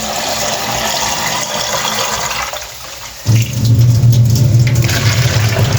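Water poured from jugs into a cooking pot while vegetable kadhi is being made, a steady rushing splash that shifts to a fuller, deeper gush partway through.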